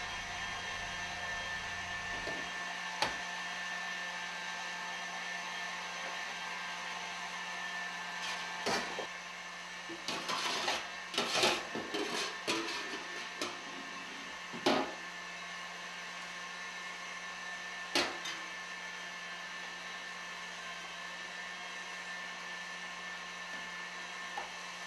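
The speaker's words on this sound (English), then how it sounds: "I ran it through the food mill attachment to my mixer." An electric stand mixer drives a food mill attachment, straining roasted tomato sauce to separate juice and pulp from seeds, skins and stems. It gives a steady, fairly quiet motor whine with a few scattered clunks and rattles partway through.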